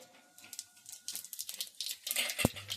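Panch phoron whole spices hit hot oil left from frying brinjal, giving a quiet, fast crackling and spitting sizzle that builds toward the end, with one sharp pop.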